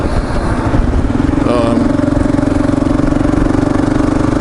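The engine of a Kawasaki KLR motorcycle chugs with a close, even, rhythmic thrum through a short stretch, with a brief higher whine rising part way through.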